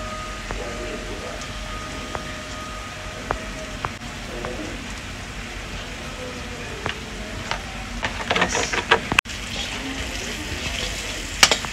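Carrots frying in a pan for carrot fried rice: a soft, continuous sizzle with scattered ticks, growing into louder clattering bursts of stirring toward the end.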